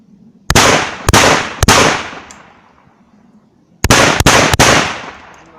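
A Derya VR90 magazine-fed hunting shotgun fires loud, sharp blasts, three spaced shots then a quick cluster of three more, each with a long decaying echo outdoors.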